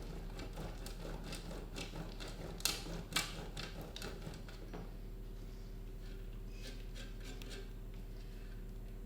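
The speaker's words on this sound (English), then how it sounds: "So I'm just going to grate a wee bit more." Cheese being grated by hand for a picnic dish, a quiet rough rasping with a few sharper scrapes midway, then fading into low background hum with no talk.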